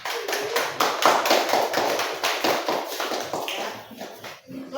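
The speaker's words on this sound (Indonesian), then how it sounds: "Silakan tepuk tangan untuk kelompok 2." A classroom of students claps for a presenting group, a dense, steady patter of many hands at close range that keeps going for several seconds before thinning out toward the end.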